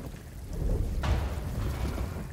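Rain and thunder in the video game Star Wars Jedi: Fallen Order, a low rumbling roll of thunder over steady rain noise, with a sharp crackle partway through, fairly loud and without voices.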